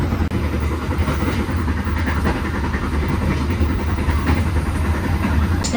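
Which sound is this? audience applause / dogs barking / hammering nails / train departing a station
train departing a station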